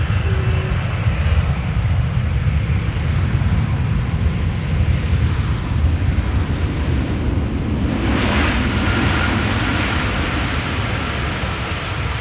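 A Boeing 777 cargo plane produces a loud, continuous broadband engine roar with a swelling rush near the end, sustained and close, with no voices.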